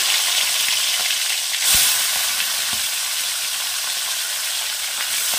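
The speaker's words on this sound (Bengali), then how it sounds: "এবার মাছগুলোকে আমি নুন হলুদ মাখিয়ে ভাজার জন্য দিয়ে দেব" Small, soft amodi fish sizzle and spit in hot oil over a low flame with a steady hiss, close by and with no talking.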